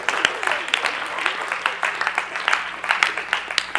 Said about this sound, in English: Give me a hand clap for trying.